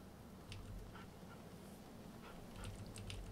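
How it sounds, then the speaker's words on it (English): A hound barks in the video game Divinity: Original Sin 2, a few short, faint barks over a low, steady game ambience. "The hound barks to draw their attention."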